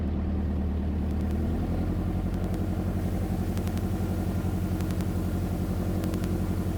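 A modified Honda Super Cub motorcycle's small engine runs at speed, around 80, with a continuous buzzing drone and steady rhythmic pulsing, close and fairly loud, with no voices.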